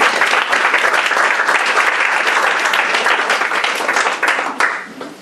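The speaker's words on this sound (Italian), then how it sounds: "Bravo Pierpaolo, complimenti e un applauso a te, Pierpaolo." Sustained audience applause at an Italian poetry book presentation, a dense, loud wash of many hands clapping continuously for about five seconds before tapering off at the end.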